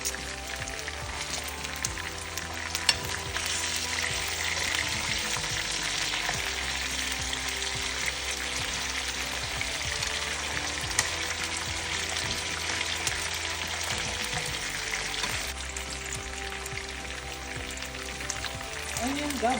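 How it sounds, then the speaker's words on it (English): Chicken drumettes sizzle and crackle steadily in a hot frying pan, a continuous dense hiss with scattered pops, moderately close. "we got all the drumettes in the frying pan"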